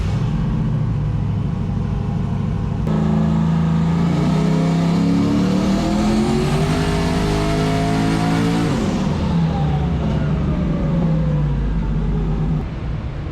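Ford Foxbody Mustang engine on a dyno run, loud and close, idling roughly before climbing steadily through a long rev to a high pitch, then dropping back down to a rumbling idle.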